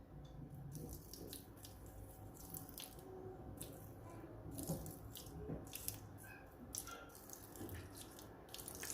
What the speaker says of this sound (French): Je vais ajouter donc de l'eau froide.